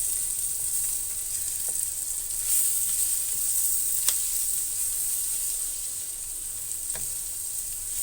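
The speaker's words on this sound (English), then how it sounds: "so now we can slowly start to mix the egg in" Egg being stirred into fried rice sizzles in a hot pan, a steady hissing fizz with a few soft clicks of the spatula, close and without voices.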